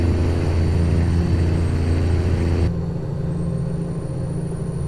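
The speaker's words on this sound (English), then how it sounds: "I love the engine sound on this truck" A low, steady truck engine drone in American Truck Simulator hums continuously, its tone shifting partway through as if the truck changes gear or load.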